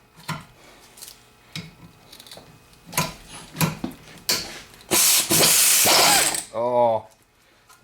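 Ratchet wrench clicking on the front brake of a 2004 Honda Civic, short bursts of close metallic ratcheting followed by a louder harsh rasp and a brief squeal near the end.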